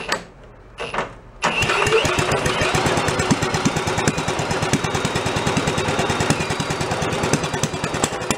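An antique Briggs engine spins over after a tear-down and cold start, with a couple of brief cranking bursts followed by a long run of rapid, rhythmic chugging pulses that are loud and close.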